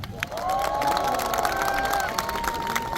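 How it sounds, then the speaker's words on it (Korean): Outdoor audience at a military band and honor guard ceremony cheering and applauding after a taepyeongso performance, a loud steady crowd roar with shouts and bright whistle-like tones running the whole time. "관람객에게 다시 한번 큰 박수 부탁드립니다"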